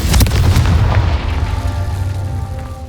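A Confringo fire spell explodes in Hogwarts Legacy with a loud, close, deep boom and a roaring blast that slowly fades over a few seconds, with no talking.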